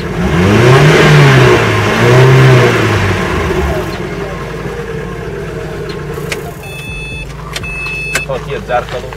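Infiniti X7 SUV with a 1.8-litre, 160-horsepower engine revs up loudly in two rising surges, then settles to a lower steady run with a mechanical whir; voices talk over the engine.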